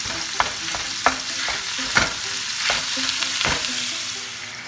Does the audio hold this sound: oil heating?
yes